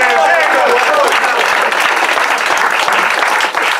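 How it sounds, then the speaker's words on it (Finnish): An audience applauds after a log chopping contest at Heinola, with dense, loud clapping running continuously and a cheer at the start, then fading slightly near the end. "Aplodit!"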